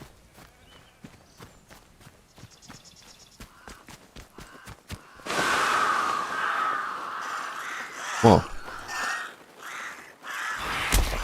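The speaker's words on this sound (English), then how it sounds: "Oh god, they're nightmare birds." Crows caw harshly in the video game Atomfall. Light tapping footsteps come first, then a cluster of loud, rasping caws near and around, and a man briefly exclaims.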